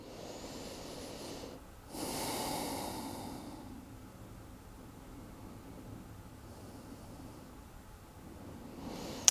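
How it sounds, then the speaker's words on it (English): Slow, deep breathing during a floor-based yoga pose, a soft airy inhale and exhale swelling briefly near the start, then quieter steady breaths over faint room hiss, with no talking. "Big deep breaths"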